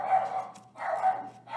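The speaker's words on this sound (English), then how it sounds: "Dog barking." A dog barks nearby indoors, two or three quick, sharp barks in close succession, moderately loud against a quiet background.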